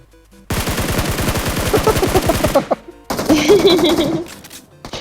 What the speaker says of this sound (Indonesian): dia kena tembak dari belakang